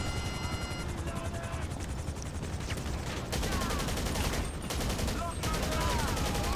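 Gunfire in GTA V, a dense, sustained burst of rapid automatic shots with a loud rattling texture, briefly thinning near the middle before resuming, with a rotor-like mechanical drone underneath.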